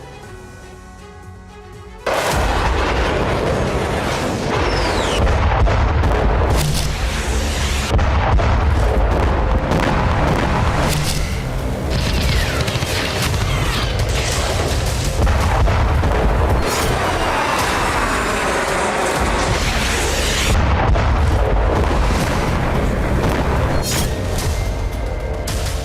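Rocket fire and explosions in the Israel-Lebanon war: after a quieter opening, a continuous loud barrage of booms, blasts and cracking bursts overlapping densely for the rest of the stretch, with no voices.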